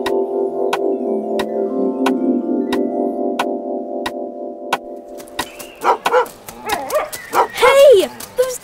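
Dogs bark in a quick burst after a steady ticking melody, followed by scuffling and excited voices.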